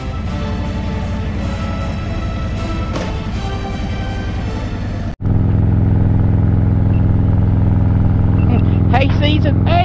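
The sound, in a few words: motorcycle engine on group ride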